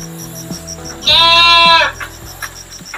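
A sick goat in a village gives one loud, drawn-out bleat in the middle, with quieter rustling and shuffling before and after it.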